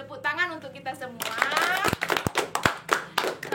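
Students in a group counseling session clap their hands in a brief burst of sharp, uneven claps, close by, while voices talk over them.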